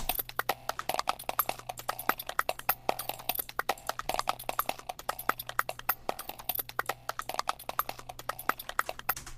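Rapid, stuttering clicks and taps repeat in a busy, choppy pattern over a low steady hum, random percussion chopped into a glitchy beat using warping in Ableton.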